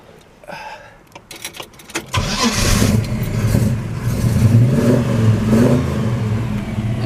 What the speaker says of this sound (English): Go ahead and fire it up for you.